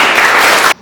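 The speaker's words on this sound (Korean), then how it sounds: "박수요." Applause from an audience at an award ceremony for a contest on unnamed anti-Japanese independence fighters, a short, dense burst of clapping that cuts off abruptly.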